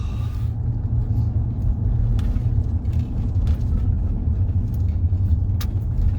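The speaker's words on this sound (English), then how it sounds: "hey, a car" A car on a hilly road near Forest Lawn in Los Angeles gives a steady low engine and tyre rumble that stays close and even throughout, with a few faint clicks and no speech.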